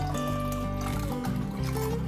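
Spiced pani puri water strained to catch coarse spices, a continuous liquid trickle and pour with small splashes, close and fairly soft, with no voices.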